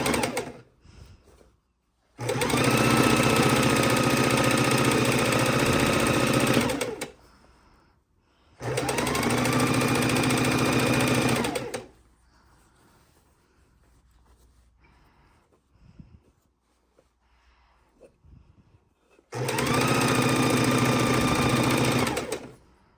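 A sewing machine stitching a quilt border after its bobbin thread has run out, in three long steady runs of fast mechanical whirring, each several seconds, separated by quiet pauses with faint handling noises.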